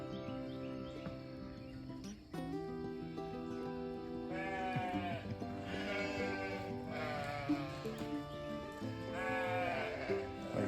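A flock of sheep bleats repeatedly, wavering cries overlapping at close range over a steady low hum, with a few clicks early on.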